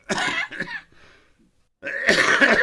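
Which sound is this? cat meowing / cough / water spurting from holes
cough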